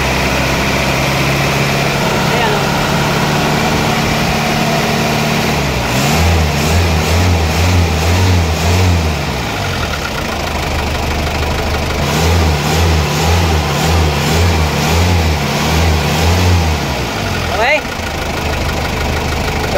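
A 4-cylinder car engine idles steadily, then is revved in two separate bursts of rapid pulsing throttle blips, loud and close, settling back to idle in between.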